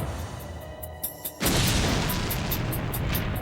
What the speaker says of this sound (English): The blast was so powerful, it threw Fowler some 15 feet down the hallw